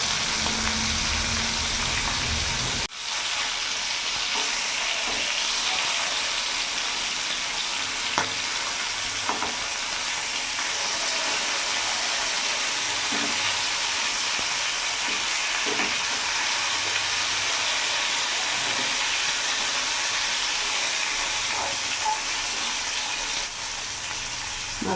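Bhola fish, just flipped, fries in oil with a loud, unbroken sizzle and hiss close by, scattered pops and a few faint utensil taps, with no voices.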